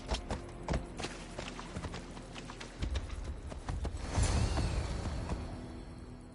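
Horse hooves clip-clopping at a steady walking rhythm in the video game Assassin's Creed Odyssey, close and clear, with a louder burst of movement and rustle toward the end and no talking.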